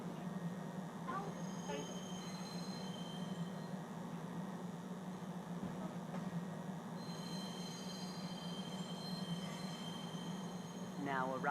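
A train pulls into a spaceport in the video game Star Citizen, a steady low rumble with faint wheel squeals and a tonal chime, distant and continuous.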